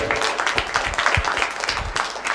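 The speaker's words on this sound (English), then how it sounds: "Let's give a huge round of applause to all our debaters" Students and guests at an inter-class debate competition applaud the debaters, lively uneven clapping with distinct sharp claps from nearby hands, fairly close and without speech.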